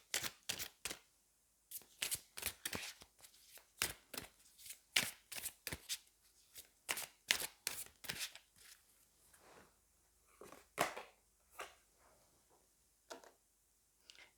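Oracle cards being shuffled by hand: a run of crisp, close riffling and slapping bursts in an irregular rhythm, with brief pauses between handfuls and no talk.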